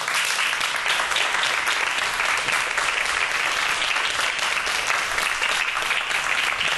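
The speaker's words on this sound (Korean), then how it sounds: "여러분 큰 박수로 무대 위로 모시도록 하겠습니다" A lecture audience applauds as a professor is welcomed onto the stage, a dense, even roar of many hands clapping at once, loud and sustained throughout with no speech over it.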